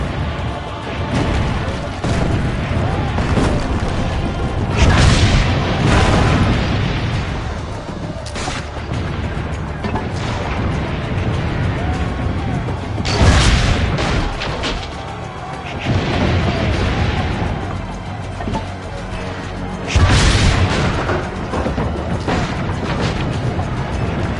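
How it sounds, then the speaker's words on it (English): Cannons fire in Assassin's Creed Brotherhood, heavy booms landing every few seconds over a constant loud roar of battle noise, with no voices. "Keep loading the cannon!"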